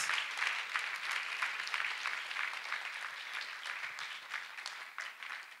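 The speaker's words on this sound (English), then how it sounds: "Let us clap for Master Jesus." A church congregation claps together in steady, dense applause that holds for several seconds at moderate loudness, with no voices rising clearly above the clapping.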